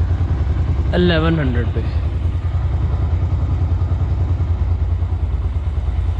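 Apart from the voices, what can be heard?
motorcycle engine idling during carburetor idle adjustment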